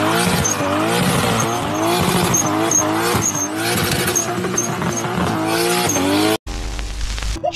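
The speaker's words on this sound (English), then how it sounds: "This car is creating a lot of smoke for revving its engine." A drifting car, smoking its tires, revs its engine hard, with a loud continuous roar rising and falling in repeated throttle surges and tire squeal, ending with a brief cut to a different engine sound.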